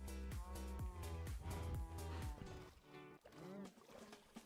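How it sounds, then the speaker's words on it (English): A cow in a modded survival video game moos repeatedly while being punched, several drawn-out lowing calls in quick succession, loud and close with slight pitch bends. "It sounded like it was punching the cow."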